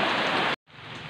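Heavy rain pours down steadily in Siargao as a loud, dense hiss that cuts out briefly for an instant and then returns slightly softer.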